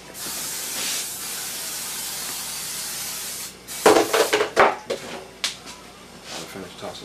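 Cooking spray hissing from a can onto a pan while making pizza at home, a steady broad spray for several seconds, then clattering kitchen handling noises afterward.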